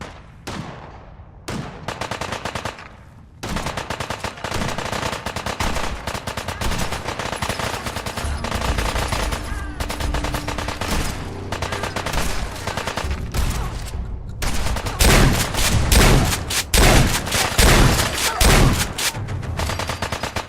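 Enemy gunfire in Fallout 4 rattles in long, loud, continuous automatic bursts with dense overlapping shots and no letup, with no speech over it.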